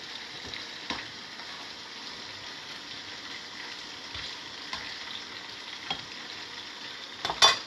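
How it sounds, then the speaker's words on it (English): Steady, gentle sizzling of cauliflower frying in a pan, with occasional soft clicks of stirring and a brief clatter near the end. "so that cauliflower was frying for a minute, two minutes?"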